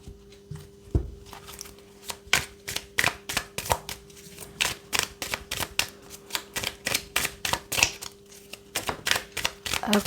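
Tarot cards being shuffled and dropping onto a surface, a steady run of quick, crisp papery snaps and taps close by, with one heavier knock near the start and no talking.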